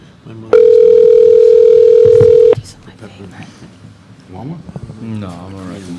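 A steady telephone dial tone hums loudly for about two seconds while a call is placed, with people talking before and after it.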